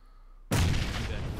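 A grenade explosion in a first-person shooter video game bursts in suddenly after half a second of near silence, loud and broadband, then holds as a sustained rumbling roar to the end.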